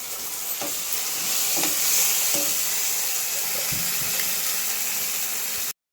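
A blended ground gravy sizzles loudly in a pan with fried onions, with a few scraping stirs and soft clunks of the spoon spaced through a continuous hiss that stops sharply at the end.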